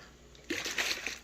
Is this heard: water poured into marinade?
yes